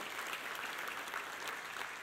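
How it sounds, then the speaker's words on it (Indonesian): Church congregation applauding during a Sunday sermon, a steady, dense wash of clapping hands that holds evenly for about two seconds with no voices on top. "kita berikan tepuk tangan buat Tuhan Yesus"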